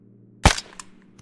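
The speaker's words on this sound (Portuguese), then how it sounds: "Tá atirando em quem, desgramado?" A single sharp gunshot from the video game Arma 3 on Stratis, loud and close, with a couple of fainter distant shots trailing after it over a low steady background hum.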